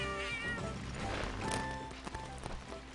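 A cat meows in the Monster Hunter 3rd Portable game while a drink is bought from it, the short mews sitting over a steady bed of game music and low ambient tones.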